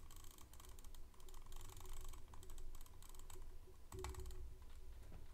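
Rapid repeated computer mouse clicking while playing a Roblox game in Roblox Studio, a steady stream of close, dry clicks with no talking.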